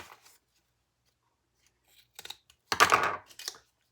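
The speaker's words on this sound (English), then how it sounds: "Whenever you trim zipper tape," Scissors snip through leather bag zipper tape in a quiet workshop, a few faint sharp cuts followed by a louder crisp crunching snip close to the microphone.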